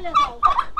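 A chicken clucking close by in a short burst of three quick throaty calls, fairly loud and alone.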